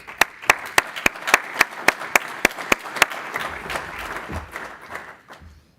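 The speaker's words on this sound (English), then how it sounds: "let's give Kev a big round of applause." Audience at a logistics real estate conference claps in a burst of sharp, rhythmic claps that blur into full applause, then thin out and fade, with no talk over it.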